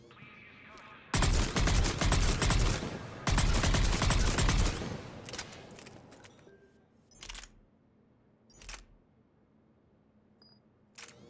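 Wide-spread weapon fired in Mass Effect: two long, loud sustained bursts of rapid gunfire, followed by a few sharp isolated shots and mechanical clicks fading into quiet.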